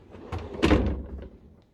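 A wooden drawer in a chest under the bed of a 2022 Frankia Titan luxury German motorhome slides open with a short soft rumble and a dull thunk, close and brief.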